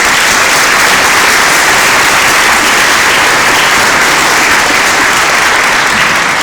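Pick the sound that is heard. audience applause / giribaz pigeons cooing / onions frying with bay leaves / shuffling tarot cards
audience applause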